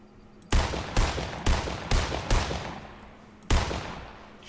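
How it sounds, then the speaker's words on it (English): Sniper rifle fire in Fortnite cracks out in six sharp, loud reports, five in fairly quick succession and one more after a short pause, each trailing off with a brief echo. "Holy shit, they have a sniper rifle."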